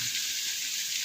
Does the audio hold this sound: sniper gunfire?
no